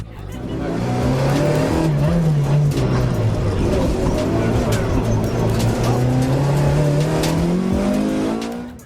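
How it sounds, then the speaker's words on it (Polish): A Porsche race car drives on a circuit, its engine droning loud and close for the whole stretch, the pitch rising and falling as it revs between gears while the tires hiss on the track. "Jazda Porsche."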